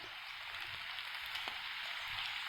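Steady rain patters over a farm plot where bitter gourd vines grow, a dense even hiss with no voices, holding constant for a few seconds.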